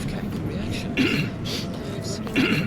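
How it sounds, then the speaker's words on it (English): A couple of harsh coughs and throat clears from a video game character in Outer Worlds 2, spaced about a second apart, over a low steady background hum. "how bad are you coughing that your ankles fudging hurt"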